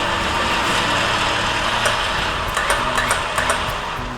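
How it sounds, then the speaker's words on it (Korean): An electric off-road winch motor runs close by with a loud, steady whir and hum, a faint rattle of clicks near the end, no one talking. "아 이거 모타 소리 좋은데?"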